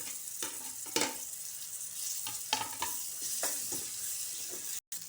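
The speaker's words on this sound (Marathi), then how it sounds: "ते मसाले चांगले भाजून द्यायचे त्याच्यामध्ये ते टमाटर घालायचा अदरक लसूणची पेस्ट आणि मीठ घालायचं" Masala with tomato, ginger-garlic paste and salt frying for a crab masala, a steady close sizzle broken by several sharp stirring scrapes and clatters in the pan, with no talk.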